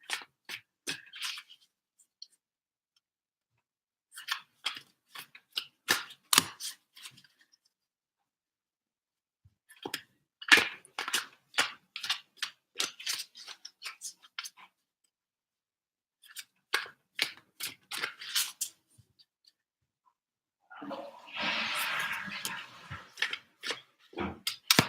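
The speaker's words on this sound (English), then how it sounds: "that's a lot of shuffling." Tarot cards being shuffled in bursts of dry, papery riffling and flicking, several short clusters separated by pauses, ending in a longer continuous rustle; close and moderately loud, with no talking.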